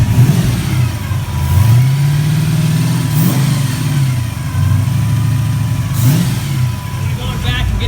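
A gear-drive V8 in a Chevy S10 runs loud and close, its rumble rising and falling through a couple of revs over a steady idle.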